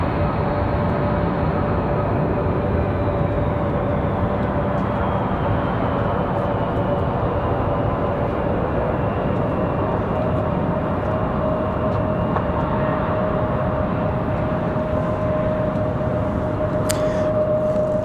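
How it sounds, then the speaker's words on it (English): American Embraer E-175 jets departing Raleigh-Durham International Airport, a loud steady engine roar with a sustained whining tone, continuous and close throughout, no talk. "Couple of American E-175s on the way out."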